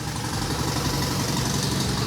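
An idling car engine with a leaking head gasket sealed with Vegemite, running steadily with a rough, even rumble close by and no voices.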